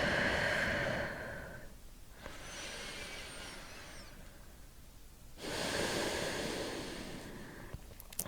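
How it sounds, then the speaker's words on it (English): Slow, deep yoga breathing at a bedtime session, with two long breathy swells, each an inhale or exhale lasting a few seconds, heard close and soft with no talking. "nice long inhales and exhales."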